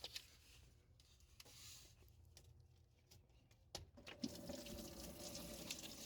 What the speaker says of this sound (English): You can see the water pouring at the bottom there.